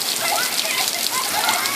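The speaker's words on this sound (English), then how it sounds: "They are playing in the rain. It's raining." Steady rain falls outdoors where children are playing, a dense, even hiss of drops striking surfaces that fills the whole stretch without pause.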